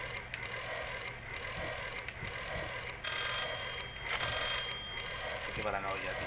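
A telephone rings inside the horror video game Layers of Fear, its bright, bell-like trill entering partway through and repeating over a murmuring background of game ambience.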